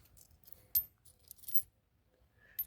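A coin found while searching the sea is handled, giving a few faint metallic clinks and small taps against quiet near-silence, brief and close.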